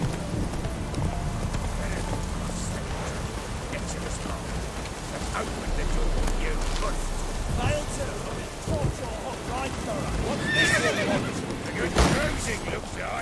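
In Witcher 3, a horse gallops through a rainy landscape with a continuous rushing wash of rain and hoofbeats, breaking into a sharp neigh near the end. Someone speaks over it at times.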